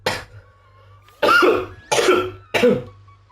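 Four harsh coughs, the first alone and then three more in quick succession after a pause, loud and close.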